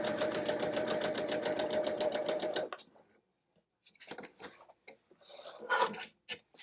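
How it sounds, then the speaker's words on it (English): A sewing machine runs steadily in a rapid, even stitching rhythm while piecing curved quilt fabric, then stops, followed by soft handling clatter and brief rustling close by. "remove your pin and keep sewing"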